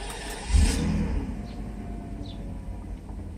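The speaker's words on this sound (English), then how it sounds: "So we'll start the vehicle." A Mercedes SL600 with vacuum and intake leaks turns over and catches with a brief loud surge, then settles into a steady, fairly quiet idle hum with no talking.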